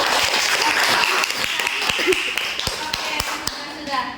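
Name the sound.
class clapping hands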